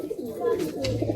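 Pigeons coo softly at a loft sale of Malwai and Madrasi pigeons, low throaty calls close by against faint background noise.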